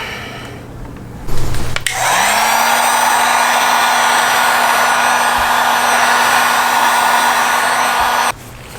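A heat gun blows steadily on vinyl wrap over a Ducati Panigale 1299S motorcycle, starting with a click and rising whoosh, then a loud continuous roar that cuts off abruptly.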